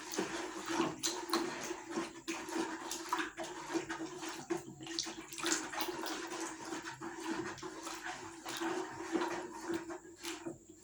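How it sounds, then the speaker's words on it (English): Liquid soap is stirred into water for a homemade rig wash, giving a close, rhythmic sloshing and swirling of liquid in a container that rises and falls in repeated strokes, with no talk. "just stir until it dissolves"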